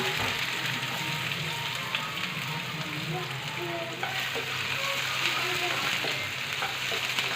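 Onion frying in a little oil in a kadai makes a steady, rain-like sizzle up close, with faint occasional stirring ticks and no talking.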